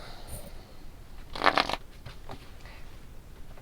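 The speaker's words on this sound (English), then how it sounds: "I love the way these shuffle though too." A short burst of tarot cards riffling together in a shuffle, a brief papery flutter over otherwise quiet surroundings.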